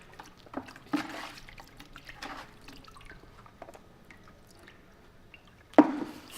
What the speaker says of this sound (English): give it just a quick wash down with some plain water, with nothing in it